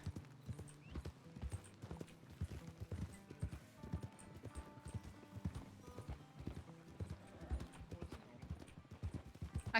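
Horse hooves clip-clop steadily in the RedM roleplay game, a rhythmic run of close, even hoofbeats with occasional faint whinnies and a voice murmuring in the background.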